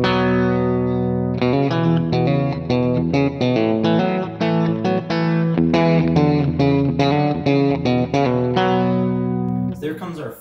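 A guitar plays a country song through a slapback echo, a loud, close run of quick picked notes and licks with a short repeating echo, ending abruptly.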